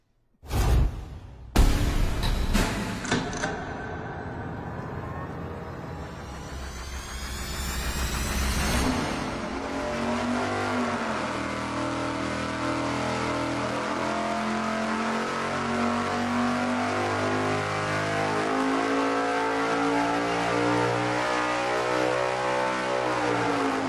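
A 572ci big-block Chevy V8 roars on an engine dyno. A few sharp bursts open, then the engine climbs into a long, loud wide-open pull that holds a heavy, steady roar to the end, with no voices.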